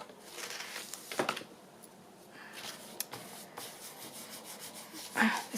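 Quiet, gritty rubbing strokes in short bursts with pauses between, a light scraping of a sanding block across paper at close range.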